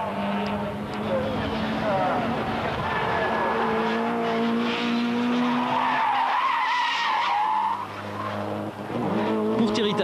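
Race car skidding as it misses its braking at a chicane with failing brakes, Procar race at Chimay's Grand Prix des Frontières in 1998; a loud, continuous engine drone and tyre scrub fill the scene, with a voice talking over it.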